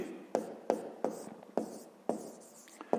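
A pen writes numbers on paper for a fifth-grade maths exercise, six crisp tapping strokes with light scratching between them in an uneven rhythm, close and quiet, with no voices.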